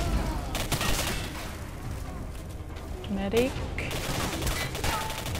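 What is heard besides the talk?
gunfire in a video game (S.T.A.L.K.E.R. Singularity mod)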